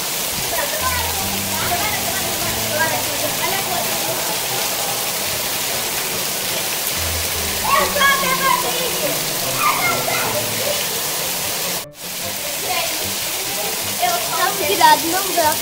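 Heavy rainstorm pouring down outdoors, a steady broadband wash of rain and running water, with voices talking and shouting over it throughout.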